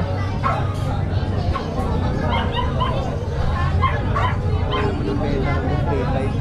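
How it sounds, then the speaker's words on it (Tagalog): Several dogs bark and yip at once in a noisy crowd, with people chattering in the background throughout. "Daming aso."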